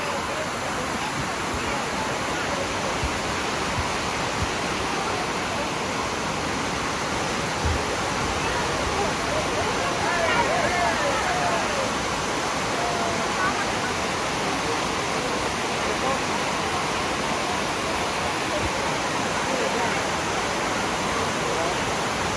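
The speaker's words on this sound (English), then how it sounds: "We're about to start climbing the famous Dunns River Falls." Dunns River Falls in Jamaica pours in a dense, constant, loud roar of rushing water that holds steady throughout with no breaks.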